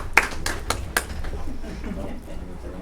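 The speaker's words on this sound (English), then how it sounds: "they start clapping when he stops speaking" Audience at a town Board of Selectmen meeting clapping hands, a few sharp separate claps at first then softer scattered clapping, moderately near, with some faint talk underneath.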